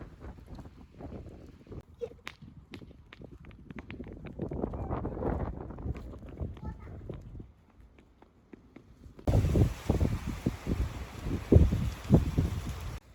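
Gusts of wind on an open plain in Italy at sunset in winter buffet the microphone in uneven bursts, rising and falling, with a louder, rougher rush of wind toward the end.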